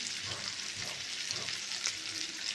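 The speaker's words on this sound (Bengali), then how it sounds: "হলুদ দিয়ে একটু নাড়াচাড়া করে নেব, কালারটা যাতে সুন্দর আসে" Cubes of elephant foot yam fry in oil as turmeric is stirred in, producing a continuous soft sizzle with faint stirring movements underneath, moderately quiet and without any talk.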